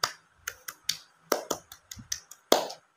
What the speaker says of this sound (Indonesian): Jadi kita tepuk semangat dulu.